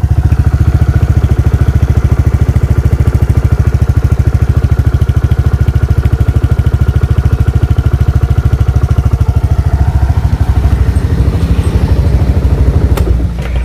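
A motorcycle engine with heat-resistant wrapping on its exhaust runs at idle right after starting, producing a loud, close, steady rapid throb with a faint metallic clatter, easing slightly in the final seconds.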